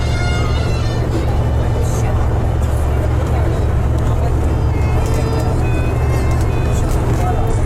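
A car driving on a desert road near Kerzaz, with a steady low engine and road rumble filling the whole stretch at constant loudness, close and continuous.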